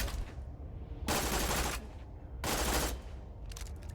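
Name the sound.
automatic burst gunfire in video game Borderlands 2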